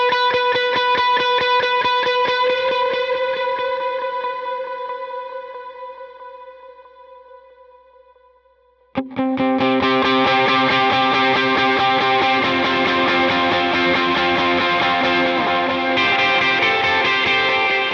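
Electric guitar run through effects such as distortion and echo plays a section of a song: a sustained chord fades out over several seconds, then a loud, dense, driven passage bursts in and holds to the end, with no talking.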